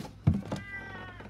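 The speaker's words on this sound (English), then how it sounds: "that's my cat." A house cat lets out a single short meow close by, a brief nasal cry lasting under a second in an otherwise quiet room.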